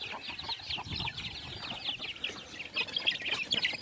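Grown chickens in a coop cluck and chatter continuously at a moderate distance, with overlapping calls and some rustling movement throughout.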